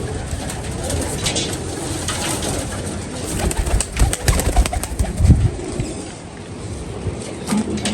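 Pigeons of a golden breed coo and stir in a loft, soft throaty calls mixed with rustling and occasional wing flutters, close and steady with no speech.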